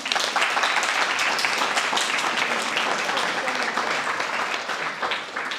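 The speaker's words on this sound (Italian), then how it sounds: "Ora fatevelo voi l'applauso." A room full of people applauds visiting high school students from a Sardinian institute, loud dense clapping held evenly throughout.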